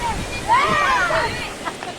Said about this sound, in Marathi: सुंदर असं भुशी डॅम आहे आणि खूप पाणी आहे